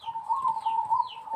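A zebra dove (perkutut) coos in a soft, steady warbling tone close by, one sustained rolling call with faint higher chirps in the background.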